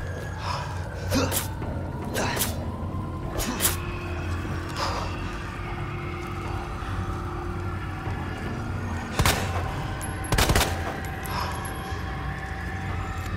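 Gunshots fired in Resident Evil 2 while playing as Leon S. Kennedy, a few sharp, loud reports spaced irregularly over a steady low game-ambience rumble, with a pair of heavier blasts near the end.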